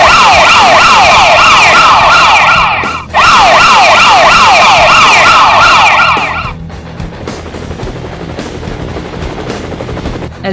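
Loud wailing police sirens in a video game sweep up and down repeatedly, cut briefly, then give way to a steady roaring rotor drone of a helicopter.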